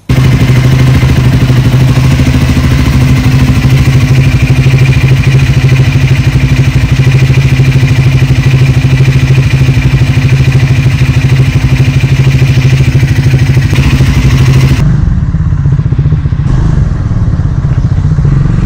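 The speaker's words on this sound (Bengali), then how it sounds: "চলো বাইকটাকে ওয়ার্ম আপ করবো, করে বেরোবো" A motorcycle engine warms up at idle before an early-morning ride, a steady close, loud low rumble running unbroken for about fifteen seconds before the sound drops away to a quieter hum.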